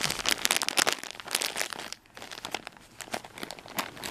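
Thick plastic packaging of a Beanie Boo toy crinkles and crackles loudly up close in rapid bursts as it is opened, with a brief pause before the rustling resumes.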